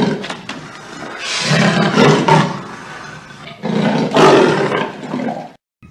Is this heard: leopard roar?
yes